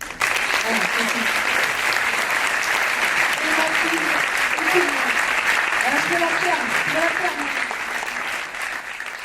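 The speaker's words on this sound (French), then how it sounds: "je voudrais aussi qu'on l'applaudisse" A cinema audience applauds an actor, a sustained wash of clapping from many hands that holds steady for several seconds and then thins slightly, with a few voices talking and calling underneath.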